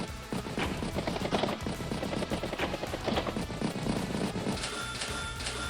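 Battlecopter firing on a tank in Advance Wars, a dense rapid burst of gunfire-like retro game effects, rattling machine-gun bursts and impacts continuing steadily and loud throughout, with no talk.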